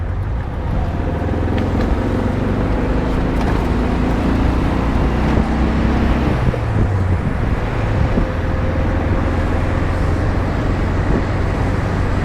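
A 1979 VW Super Beetle on a long test drive after a fuel float and gas gauge repair, with a rack-and-pinion steering pulse. Its engine drones steadily under loud road and wind noise, with no one speaking.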